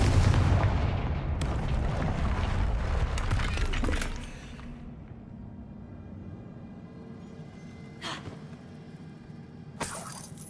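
A Confringo spell explosion in the video game Hogwarts Legacy bursts with a loud, rumbling blast that roars for several seconds and then fades into a low hum, followed later by a couple of brief sharp cracks.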